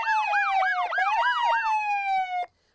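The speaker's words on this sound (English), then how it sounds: "4 squad cars came racing towards us with their sirens screaming" Several police car sirens wail together at close range, their rapid rising and falling yelps overlapping before settling into steadier tones and cutting off abruptly.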